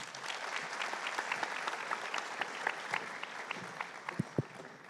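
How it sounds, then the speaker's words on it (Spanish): Audience applause greets a panel at a public accounting congress, a dense wash of many hands clapping steadily throughout, with a few sharper close claps standing out near the end. "Recibamos a nuestro panel con un fuerte aplauso"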